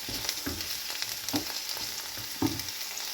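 Okra sautéed in oil in a pan, a soft steady fry sizzle broken by a few distinct stirring scrapes and clinks, close and fairly quiet, with no talk.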